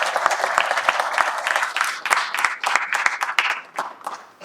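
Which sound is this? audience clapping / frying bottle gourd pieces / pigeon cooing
audience clapping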